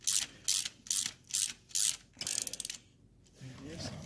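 A torque wrench ratchets in five quick bursts, then a rapid run of clicks, while the primary drive of a 1974 Triumph Trident motorcycle is assembled; the clicking is close and distinct, followed by faint handling noise.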